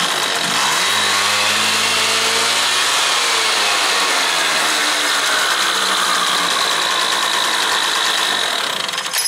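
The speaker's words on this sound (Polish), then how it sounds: "Teraz zrobię Wam zoom, odpalę silnik i zobaczycie, że ten pasek będzie szedł na samą górę wariatora." A two-stroke Ferro 50 scooter engine, variator exposed during a belt check, starts up and revs, then settles into a loud, steady, buzzing run that fills the whole clip with no talk.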